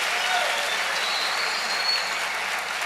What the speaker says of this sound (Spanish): Dale un aplauso otra vez al Rey bendito